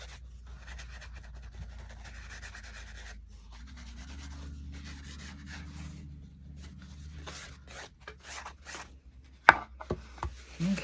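Wax being rubbed by hand to even it out on a piece of scrap wood, a steady soft scrubbing texture that fades into quieter, sparser strokes and a few sharper knocks near the end.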